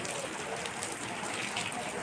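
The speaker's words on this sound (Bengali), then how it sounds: "এক শান্ত পরিবেশে খুবই সুন্দর লাগছে বৃষ্টি" Steady hiss of rain falling, a continuous broadband wash with no break, fairly even and moderately loud throughout.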